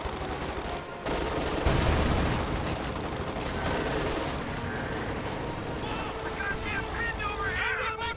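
Thompson submachine guns firing in a World War II strategy video game: bursts of automatic gunfire and scattered battle shots crackle at mid distance over dense combat noise, with a voice speaking over the fight.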